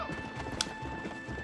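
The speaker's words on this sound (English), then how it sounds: "my horse I failed to stop it crying" A horse in Red Dead Redemption clip-clops along with a short whinny at mid-point, moderately quiet and close, hoofbeats steady beneath the neigh.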